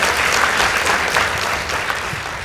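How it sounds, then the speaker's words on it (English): Audience applause at a school debate contest closes out a round, a dense, steady wash of many hands clapping throughout without a break. "Please give them a round of applause."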